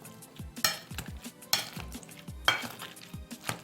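Avocados mashed in a bowl, a few sharp clinking strikes of utensil against the bowl spaced about a second apart, with soft squishy scraping between them, close and fairly quiet.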